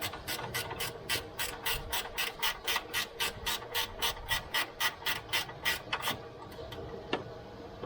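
A gear wrench ratcheting on a bolt during an Acura RDX knock sensor replacement, a rapid series of about twenty sharp rhythmic clicks close up, slowing and stopping near the end.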